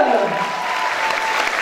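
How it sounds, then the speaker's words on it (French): Audience applause at the Miss Somme 2014 pageant, a dense, steady wash of clapping from a large crowd that holds at an even level for the whole moment. "Vous pouvez les applaudir bien fort"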